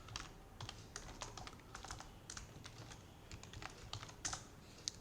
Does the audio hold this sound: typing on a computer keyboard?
yes